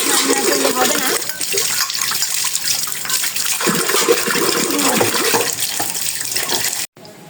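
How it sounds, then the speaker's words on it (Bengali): Items are washed under a strong stream of running water that splashes continuously and close by, with a few clinks, before it stops abruptly near the end. "এখন এগুলো ধুয়ে নেই"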